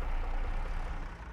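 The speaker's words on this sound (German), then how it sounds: "Und der Motor ist abgewürgt" A tractor engine in Farming Simulator 22 stalls with a low, heavy, steady rumble that tapers off slightly at the end, with no voices over it.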